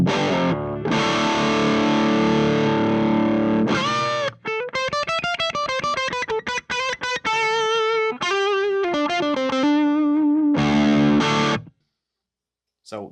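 Guitar played through a drive pedal set to its WHOA setting: a loud, thick, saturated distorted tone with sustained chords and a run of single-note picking, then a final ringing chord that stops abruptly.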